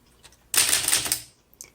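A 1935 Woodstock 5 antique typewriter clatters in a single short, close burst of key strikes, with quiet gaps before and after.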